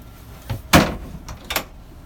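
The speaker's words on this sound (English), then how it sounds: "This does have a bow block-off door." A bow block-off door on a 2020 Grady-White 275 Freedom boat is swung shut with one sharp close-up thud, preceded by a soft knock and followed by a lighter latch click.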